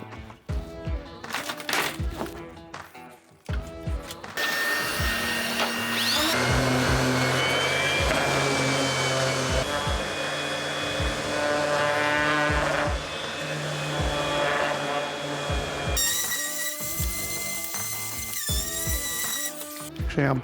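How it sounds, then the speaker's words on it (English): A power sander whirs continuously at close range on pallet wood, its harsh buzzing grind rising and shifting pitch as it works across the surface, after some clattering handling. "We're gonna do some sanding."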